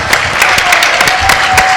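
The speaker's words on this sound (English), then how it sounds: "Let's give Todd a big round of applause." Audience applause for a man called up in front of an education STEM/STEAM program gathering, a dense steady wash of many hands clapping at close range, with no talking over it.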